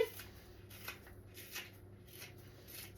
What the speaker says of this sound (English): I love the scissors because you can get whatever angle that you like